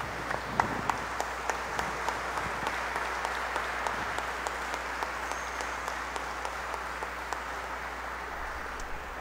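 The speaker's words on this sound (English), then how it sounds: "Let us give His Eminence a round of applause." Congregation at a cardinal's red hat and ring ceremony in church applauding steadily, a soft, even wash of many hands in a large reverberant space, moderately distant, with a few sharper claps standing out.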